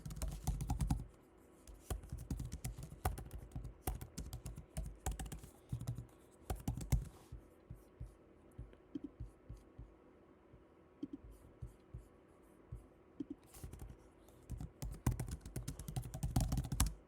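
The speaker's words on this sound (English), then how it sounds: "Sorry, I was just typing a note." Quiet clicking and tapping on a computer keyboard in bursts, keys pressed in uneven runs with short pauses, soft and close with a low background hum.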